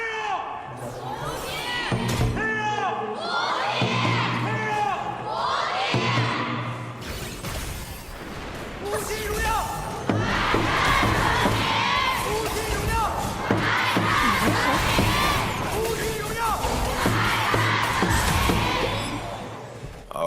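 An audience at a Honor of Kings esports tournament cheers and shouts in loud, sustained waves of crowd noise, with chanting voices rising and falling, filling the arena.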